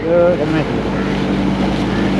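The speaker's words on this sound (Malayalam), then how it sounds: "ഇത് വരുന്നത് ഗവൺമെൻറ്റിൻ്റെ ബോട്ടാണ്." A passenger boat's engine drones steadily with low rumbling tones and wind noise as it approaches on the backwaters, holding a constant level throughout the short stretch.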